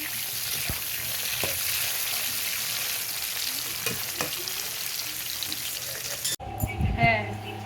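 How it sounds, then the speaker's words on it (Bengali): Red amaranth greens, potato and snake gourd frying on a home clay stove give a steady, close sizzle with small stirring knocks, briefly interrupted near the end by louder clatter and movement. "তো ভাজাভাজিগুলো মা উনুনেই করে নিচ্ছে"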